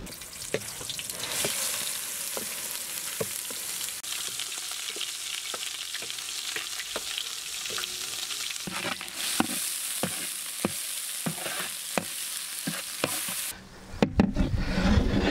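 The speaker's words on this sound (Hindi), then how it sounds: "बाउल गर्म हो गया है, इसी में हम लोग प्योर घी ऐड करेंगे। जो पहले ही प्रिपेयर करा हुआ पेस्ट इसमें ऐड करेंगे।" Masala paste sizzles and fries in pure ghee in a hot bowl, a steady loud crackle with repeated sharp scrapes of stirring, then a sudden burst and clatter near the end as something is added.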